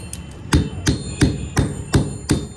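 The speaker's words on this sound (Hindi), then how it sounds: "थोड़ा हथौड़ा मजबूत लेकर आ गया है" A hammer strikes an old, roughly 30-year-old printer six times in a steady rhythm, each blow a sharp, close, loud metallic-plastic knock with no talk.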